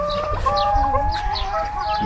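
Backyard hens cluck in a garden, a close chorus of fowl calls with chirping birds in the background.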